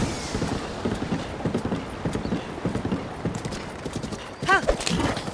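Horse hooves clip-clop in a steady walking rhythm in Zelda: Breath of the Wild, close and clear over game ambience, with a short whinny-like call near the end.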